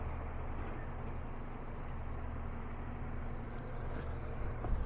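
Car slowly reversing onto a tow dolly, a steady low engine rumble and idle hum throughout, close and continuous with a faint clunk near the end.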